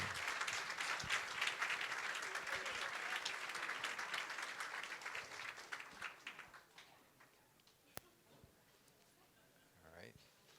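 An audience at a fall convocation ceremony breaks into a warm round of applause, thick sustained clapping that slowly tapers and fades to a few isolated claps, with faint voices near the end.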